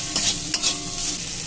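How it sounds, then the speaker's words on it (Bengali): Chopped carrots and onion with salt stir-fry in a pan, a bright steady sizzle with a couple of sharp scrapes of the spatula as the vegetables are turned, close and with no talking. "গাজরটা একটু ভাজা হয়ে গেছে।"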